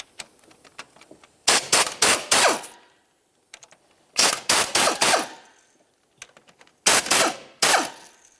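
A power tool, likely an impact wrench, spins off engine mounting bolts on a 2009-2020 Dodge Journey during a timing belt job: three loud, close bursts of rapid hammering chatter, each made of several short pulses, with quiet gaps between.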